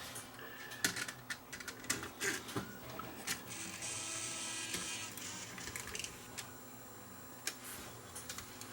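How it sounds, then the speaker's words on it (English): A Sony DSR11 DVCAM video deck threads a tape with a run of close, quiet mechanical ticks and clicks over a steady motor whir. "I do believe the tape threaded."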